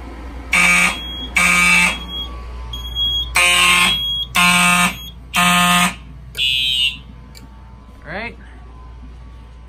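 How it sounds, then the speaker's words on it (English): A mechanical fire alarm horn blasts in a series of loud, evenly spaced bursts alongside a smaller electronic alarm unit, with brief pauses between blasts and a short whooping tone near the end. "mechanical horn's really overpowering of the True Alert here"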